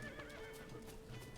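A horse in Zelda: Tears of the Kingdom gives a short whinny over clip-clopping hooves, faint and brief.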